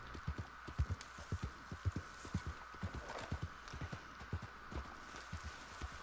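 Horse hooves clip-clop steadily in Red Dead Online, an even galloping rhythm of soft thuds over a low constant hum, heard alone at moderate distance.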